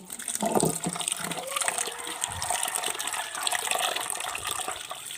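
Ground rice is washed in water with continuous close splashing and sloshing, steady and fairly loud throughout.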